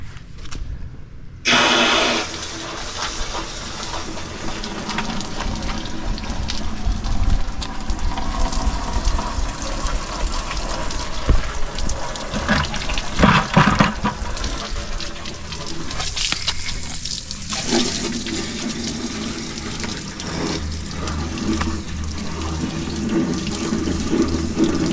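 Water sprays continuously from a regular garden hose nozzle into the frame of a Jeep Wrangler TJ, a loud, steady hiss with the flow splashing and gurgling inside the metal rails.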